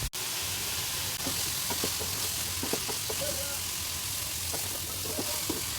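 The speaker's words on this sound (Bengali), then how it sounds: "এখন আমি লাউ আর আলু এই যে দিয়ে দিন।" Bottle gourd and potato fry in hot spiced oil, a steady close sizzle with occasional stirring knocks from a spoon, while a voice talks over it.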